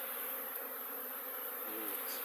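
A steady, dense buzzing of many Buckfast honey bees close by, continuous and even, like a busy hive entrance during a winter cleansing flight.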